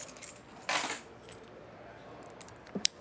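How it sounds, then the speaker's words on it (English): A set of travel trailer keys, for a 2021 Airstream Globetrotter 30RB, is picked up and handled: a brief metallic jingle burst early on, then quiet, and a sharp small clink near the end. "We're gonna grab some keys"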